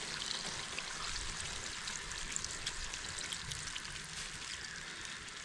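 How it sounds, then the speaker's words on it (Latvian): Water poured into a pot of plov simmering on the stove, a steady broad trickling wash that runs evenly throughout with no one speaking. "Un lai viņš visi sautētos, pielējam ūdeni."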